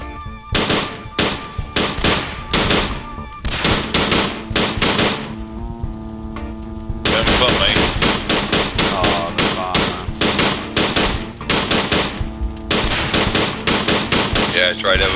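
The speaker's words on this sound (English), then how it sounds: "I thought there was someone shooting." Loud, relentless automatic gunfire from the video game Planetside 2, with rapid bursts of shots repeating nearly without pause and only brief gaps.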